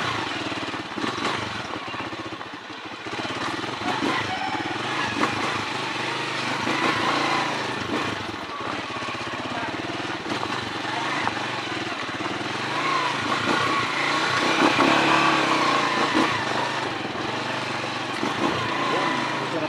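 Motorcycle riding along a rough unpaved bypass road near the Bacaca bridge project in Davao City, with a steady buzzing engine drone, jolts and rattles from the uneven surface, and wind noise, recorded close.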